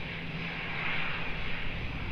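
An airliner taking off at Lisbon Airport, heard as a faint, steady distant roar of jet engines with a broad hiss that swells slightly and then holds.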